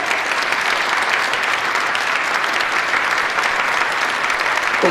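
A crowd at a product launch event claps steadily and densely, a loud unbroken wash of applause lasting several seconds.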